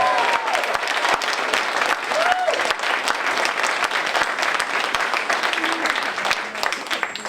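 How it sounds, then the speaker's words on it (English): A school creative arts evening crowd gives loud, sustained applause after a stage show, dense clapping with scattered cheers and voices running steadily from start to finish. "give it up for a massive round of applause"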